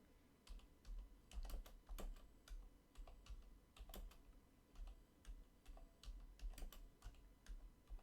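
Steady typing on a computer keyboard, a continuous run of close, crisp key clicks with irregular rhythm over about eight seconds, alone with no voices, as a song request is entered into online radio software.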